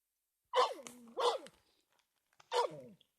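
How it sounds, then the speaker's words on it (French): A dog, out searching for lizards in a garden where a fruit tree is being planted, gives three short sharp barks or sneeze-like bursts, close by, with brief pauses between and no talk. "il y a Toutou qui cherche les lézards là-bas"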